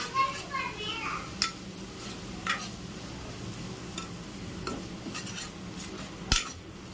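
Rajma gravy spice masala sautéing in a pan, with a low steady sizzle and scattered sharp clinks of a spoon stirring against the pan; background noise fills the scene and no one talks.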